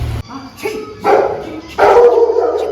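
A dog barks a few times in short bursts outdoors in monsoon-season Mussoorie, fairly close and loud, with quiet gaps between the barks.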